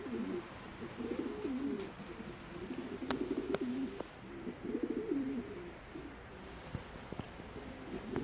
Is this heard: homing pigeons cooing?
yes